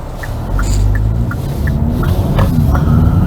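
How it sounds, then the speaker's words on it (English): A 2022 Hyundai Elantra N-line's engine hums steadily from inside the cabin while driving, a low continuous drone with faint road rumble and some light ticking sounds over it. "I hear the engine coming to life a little bit more"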